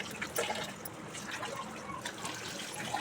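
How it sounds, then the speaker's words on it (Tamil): A meatball curry kulambu bubbles in a pot with a soft, steady simmer of small pops and gurgles, faint and close with no talking. "இந்த மாதிரி கொதிக்கணும். நல்லா குழம்பு கொதிக்கணும்."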